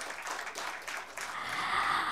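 An inauguration crowd keeps applauding after being urged to clap louder, a soft, distant spread of clapping that swells slightly toward the end.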